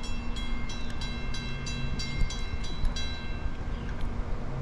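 A New Jersey Transit train rumbles past at moderate distance, with a steady roar of wheels on rails and repeated faint clicks of cars over joints.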